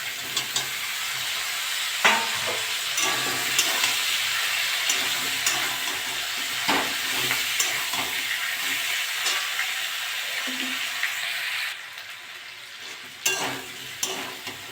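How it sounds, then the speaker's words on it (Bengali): Potato and green banana pieces fry with prawns in hot oil, a long continuous sizzle up close with intermittent stirring clatter and scrapes, easing briefly near the end before another stir. "এবারে আলু আর কলাগুলো দিয়ে দেবো।"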